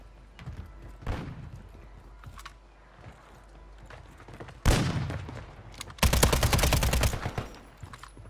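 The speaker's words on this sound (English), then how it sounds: "They're sniping." Weapon fire in Call of Duty: Warzone, with sniper rifles in play: a few isolated heavy shots and thuds, then a sharp blast followed by a dense rapid burst of gunfire near the end, loud and close.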